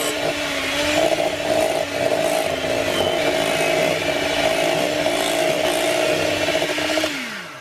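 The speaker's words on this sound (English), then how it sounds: "I'm using my electric beater to just whisk it until we've got a nice smooth creamy mixture." Electric hand beater whisking a cream cheese mixture for no-bake keto fudge, a steady whirring motor hum that runs continuously and then winds down at the end, with no talking.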